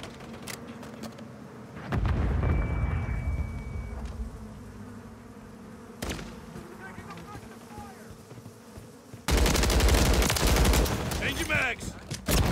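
Gunfire in Modern Warfare III: loud, crackling bursts of automatic fire with a short volley early on, another sharp burst mid-clip, then a sustained, dense stretch of shooting at the end over a low background rumble.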